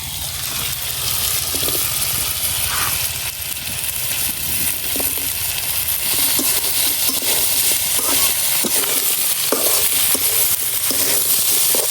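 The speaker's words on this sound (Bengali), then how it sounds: "আলু ভাজতে ভাজতে আলুর সাথে দিয়ে দিতেছি হলো পেঁয়াজ কলিগুলা।" Potatoes and onion stalks fry together in a pan for a spinach and potato dish, giving a loud, constant hiss with soft scrapes of stirring, close up and with no talking.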